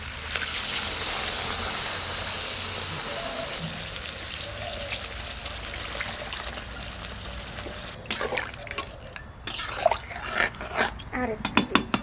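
Water is poured into browned duck curry in a pan, a long, loud rushing hiss that gives way to scattered bubbling and clinks.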